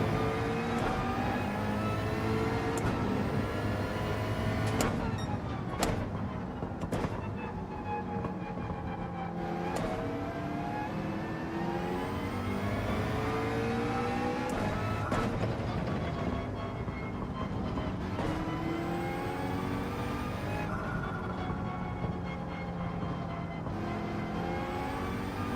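Several McLaren race cars in Gran Turismo 7 drone continuously, with engine tones rising and falling through gear changes and cars sweeping past, loud and steady throughout with no talk.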